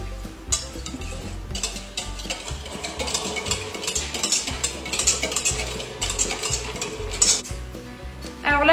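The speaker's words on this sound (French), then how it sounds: "on va mélanger le yaourt avec les œufs" Yogurt and eggs are being mixed in a bowl, producing a steady run of close scraping and clattering utensil strokes with no talk over them.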